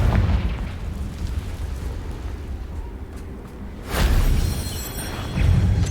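A Confringo fire spell bursts in a Harry Potter video game: a steady rumbling bed of game ambience, then a loud boom-like burst near the end followed by another surge, with no talking.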